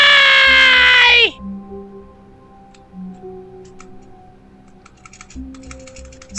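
Computer keyboard keys, including the spacebar, are pressed while playing The Stanley Parable. A loud vocal wail opens the clip, then scattered light clicks and taps follow at close range.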